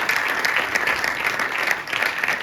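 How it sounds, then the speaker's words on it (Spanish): An audience at a basketball foundation's conference on mental health in sport gives a brief, steady burst of crowd applause, many hands clapping close and fairly loud. "le voy a pedir también un aplauso"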